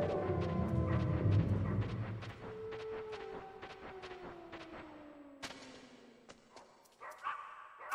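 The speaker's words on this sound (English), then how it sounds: "Hey, little baby dog. Look at that." A small dog in the Metal Gear Solid video game gives a run of yips and barks close up, followed by game sound effects and scattered clicks, with no talking.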